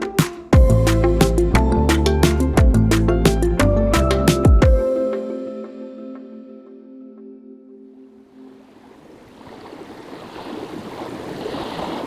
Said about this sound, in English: That is the sound of the mighty St. Lawrence River